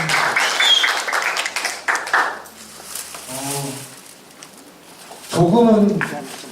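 Audience clapping at a culture forum in Sejong, a short burst that dies down quickly, followed by a speaker talking with brief renewed applause near the end.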